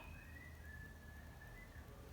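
A thin whistled tone drifts slightly in pitch and holds for about two seconds, faint over steady background noise.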